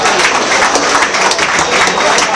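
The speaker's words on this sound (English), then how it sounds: "Clap your hands for Dave Reese one time" Audience applause during a hip-hop interview, dense and loud steady clapping filling the short moment with no pause.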